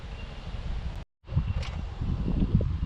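Gusty wind buffets the microphone outdoors with low rumbling, cutting out briefly for a moment before the blustery noise resumes.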